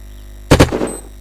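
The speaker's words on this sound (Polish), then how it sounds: "Jeszcze jeden strzał." A single gunshot goes off in the survival game Unturned, a sharp close double crack that fades in a short tail over a faint steady background hum.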